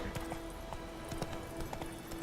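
Hooves of a horse in The Witcher 3 thud along in a rapid, rhythmic gallop. The sound is close and steady, with game music or ambience running underneath.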